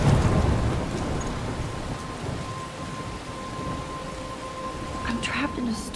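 Steady rain pours with low rumbling thunder during a storm in Life is Strange, a dense wash of noise that swells and fades, with a faint sharper crackle near the end.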